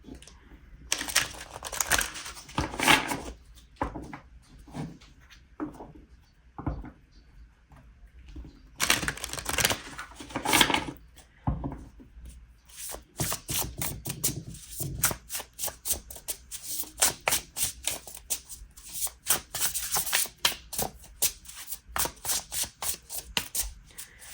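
Playing cards, likely a tarot-style deck, are handled close up: bursts of riffling and rapid flicking shuffles separated by brief pauses, then a long run of quick crisp card snaps, with no talking.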